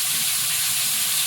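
Taro frying in hot oil in a pan, a steady loud sizzling hiss that holds unbroken for the whole stretch.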